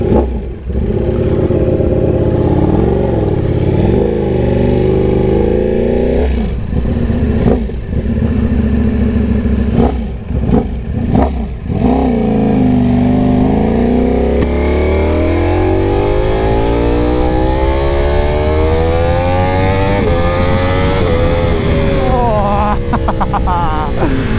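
A Ducati Panigale V4 motorcycle engine revs hard while riding, loud throttle blips and sweeping acceleration with rising and falling pitch, wind rush underneath, and a rider talking over it.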